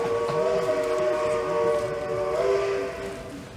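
A train whistle sound effect plays during a stage adaptation of It's a Wonderful Life: a loud, sustained, chord-like steam whistle held for about three seconds before easing off slightly at the end.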